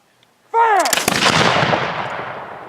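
A single loud musket volley fired at an outdoor Declaration of Independence re-enactment at the Daniel Boone Home: a sharp crack from several muskets at once, then a long rolling echo that slowly fades, after a shouted command.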